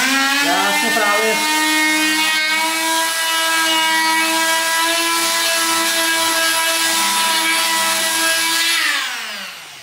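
A Fein MultiMaster oscillating tool sanding runs with a loud, steady high-pitched buzz for nearly ten seconds, briefly shifting pitch at the start and winding down at the end, with no talking.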